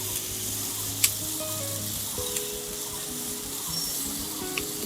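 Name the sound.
stirring cooked mango and cucumber with sugar in a pan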